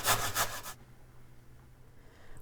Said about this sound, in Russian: Одну морковь я натираю на терке.